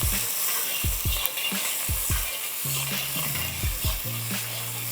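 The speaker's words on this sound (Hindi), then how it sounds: "और फिर हम इसे हल्का सा सौटे कर देते हैं" Onions lightly sautéing in a pan for a Bihari fish curry, a steady hiss of oil with rhythmic spoon scrapes and knocks, close and fairly loud.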